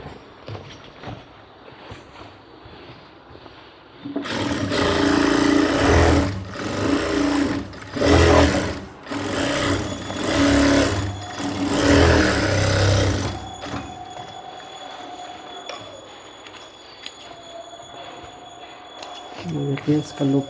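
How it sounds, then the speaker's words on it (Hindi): A sewing machine runs double stitching on cargo half pants in loud sustained bursts with short pauses, then quieter handling and speech follow. "इससे डबल सिलाई लगा दिया।"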